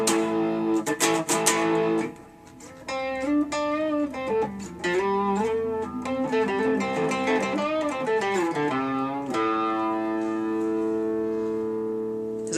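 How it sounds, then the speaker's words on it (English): An electric guitar on the rhythm pickup plays a run of picked notes with a warm, rounded tone, sliding and bending between pitches before a final ringing chord. "the rhythm pickup sounds like this"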